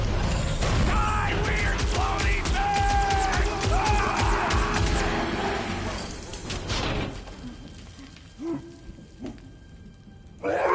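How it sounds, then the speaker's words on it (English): Swarm of old cleaner bots in the game Guardians of the Galaxy, a dense mechanical whirring and clicking with ratchet-like creaks, loud for the first six seconds, then thinning out to scattered faint clanks. "It's a swarm of old cleaner bots."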